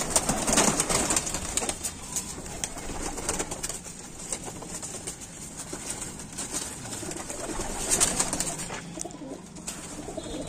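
Pigeons of an old rani breed coo softly while being picked up and handled, their murmuring calls and occasional wing flutters steady over outdoor background noise.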